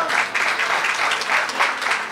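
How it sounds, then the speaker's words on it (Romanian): Guests at a christening party applaud for the baby, a dense, continuous burst of clapping from a nearby crowd lasting a couple of seconds. "Aplauze pentru prunc!"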